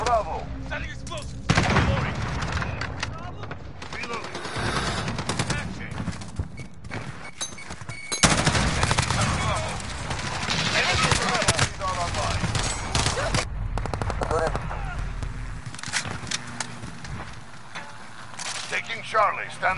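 Gunfire bursts from Call of Duty multiplayer crackle repeatedly through a busy match, mixed with game effects and voices talking over the action.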